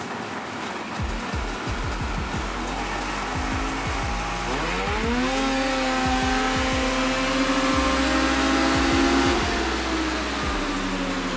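An Arctic Cat 858 snowmobile engine on a dyno, first heard as loud, separate low firing pulses, then climbing to a sustained high roar near 8,000 RPM and holding steady, loud and close throughout.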